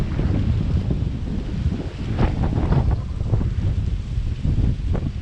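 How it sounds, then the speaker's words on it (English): Strong wind buffets the microphone in a steady, loud rumbling roar, with gusty low-frequency blasts throughout and no voices. "it was so windy today"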